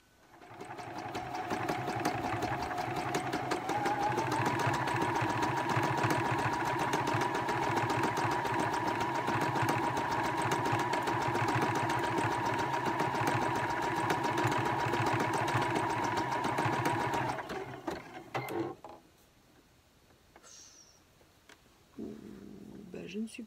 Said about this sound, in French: Alors je vais la surpiquer avec une piqûre fantaisie afin que la couture reste bien plaquée